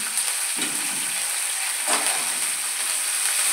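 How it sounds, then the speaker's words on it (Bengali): Mustard seeds, dried chillies and curry leaves sizzle in hot mustard oil, a steady crackling fry with a couple of louder bursts as they hit the pan, no voices. "এবারে একটা জায়গায় আমি সর্ষের তেলে সর্ষে, শুকনো লঙ্কা, কারি পাতা দিয়ে দিচ্ছি।"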